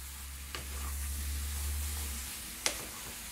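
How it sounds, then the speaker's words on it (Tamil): Broccoli coated in curd is stirred in a pan, with a faint, quiet sizzle and two brief taps of the spoon against the pan. "இதை வந்து நீங்கள் நல்லா கலக்கி விட்டுக்கோங்க"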